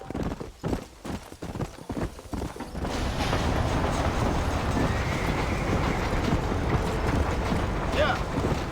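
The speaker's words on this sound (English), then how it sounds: "How do I get the horse to run?" Hooves of a horse galloping in the Wild West game Red Dead Redemption, a fast steady clip-clop rhythm that picks up after a few seconds of uneven steps and carries on loud and continuous.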